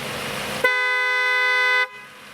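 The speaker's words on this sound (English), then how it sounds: "Honk the horn normally and it sounds like this." A 1991 Mercedes S-Class sounds its horn on the normal setting: one steady, bright, loud honk held for about a second, close up and alone.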